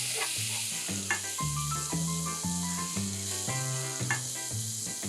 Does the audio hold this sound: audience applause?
no